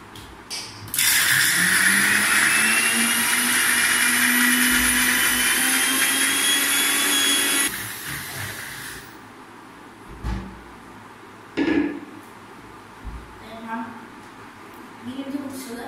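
Blender grinding ice milk for a shake: a loud, whining motor roar with rattling runs for several seconds, then cuts off, followed by scattered clunks and handling noises.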